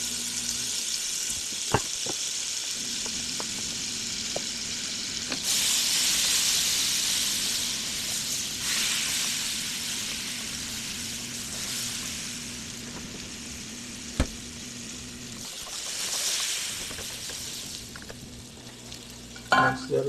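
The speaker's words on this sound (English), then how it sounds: "Some butter in the skillet." Butter, about three quarters of a stick, melts and sizzles in a skillet as the base for a roux, a continuous frying hiss swelling and easing, with occasional clicks and taps of a utensil and no talking.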